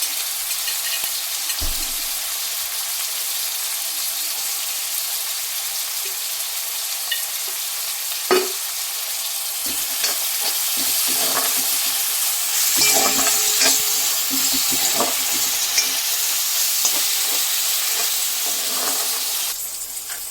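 Idli pieces frying in a pan with tomatoes and spices, a long bright sizzling hiss that rises and thickens midway, with occasional soft knocks and stirring scrapes.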